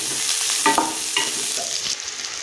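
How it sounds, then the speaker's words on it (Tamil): Cumin seeds stirred in a hot pan for mint chutney, a close continuous sizzle with several scraping strokes of a spoon against the pan. "இப்போ சீரகம் சேர்த்துக்கிறேன். இதையும் நல்லா மிக்ஸ் பண்ணி வச்சுக்கலாம்."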